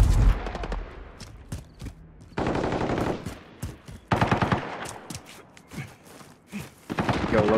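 Bursts of automatic gunfire in the game Modern Warfare: rapid, sharp shots in several clusters separated by brief pauses, loud and close.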